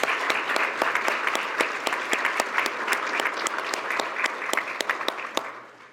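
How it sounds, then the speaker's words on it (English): An awards-dinner crowd at a chamber of commerce event claps together, a full, even wash of applause with sharp individual claps standing out, tapering off at the close. "So I'd like to give them a round of applause as well."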